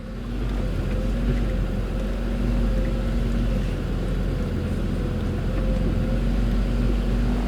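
A car drives along the bed of a former Finnish railway line heading toward Vyborg, giving a steady, loud engine and road rumble with low tonal hum that continues unbroken with no talk.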